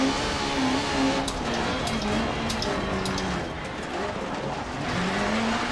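Peugeot 405 T16 rally car power sliding through a corner on the Pikes Peak climb, its engine droning loud and close with rising and falling revs and a rough gravelly rush beneath.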